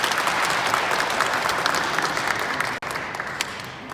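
Sustained applause fills a hall at a Sejong City welfare standards briefing, a dense steady clatter of many hands that runs on without pause apart from a split-second dropout near the end.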